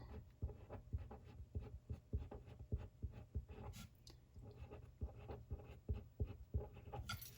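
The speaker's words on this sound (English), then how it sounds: "I'll just write my monthly goals" Pen strokes scratch and tap across the page of a Classic Happy Planner in a close, quiet, steady rhythm that carries on without pause, with no one speaking.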